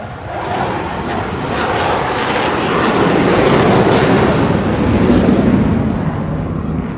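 A powerful piston aircraft engine of 1,000 cubic inches or less roars loudly as a racing plane passes close by at full military power at the Reno Air Races, the rumble swelling to a peak and then easing slightly.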